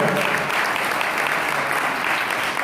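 An audience claps steadily and evenly throughout, a warm sustained round of applause welcoming guests at a school inauguration ceremony, with no voices over it.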